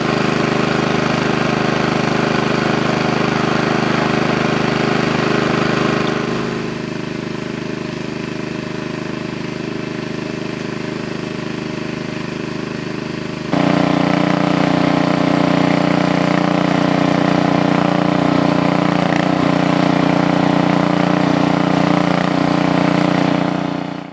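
Engine-driven water pump drawing water from a small pond, a steady loud mid-pitched engine drone that drops to a lower, quieter running note for several seconds, then returns louder and holds to the end.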